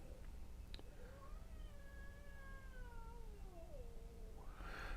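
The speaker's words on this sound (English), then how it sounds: "Had some cats outside getting ready to get into it." Cats outside meow and caterwaul in a long, drawn-out yowl that bends downward in pitch. The sound is faint and distant over steady background noise, with a brief rustle near the end.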